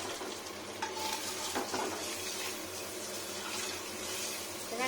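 Close, steady sizzle of eggs frying in a pan over lowered heat, a dense continuous crackle with a few brief stirring scrapes, no voices.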